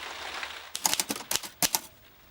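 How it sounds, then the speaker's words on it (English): A typewriter types out a novel in an irregular run of sharp mechanical keystrikes, a brief pause followed by clustered clacks, close and crisp, with no voices. "I am just on the grisly job of typing out my novel."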